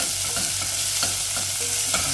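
Garlic and onion sautéing together in olive oil, a steady close sizzle with a rhythmic scrape of a spatula stirring every half second or so, no voices.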